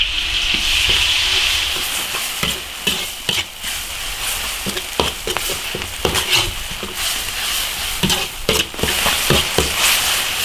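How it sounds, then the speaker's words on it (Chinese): Chopped bird's eye chili peppers stir-fry in hot oil in an iron wok, a continuous close sizzle broken by sharp scraping and clattering strokes of the spatula at an irregular rhythm. "剁好的辣椒炒香"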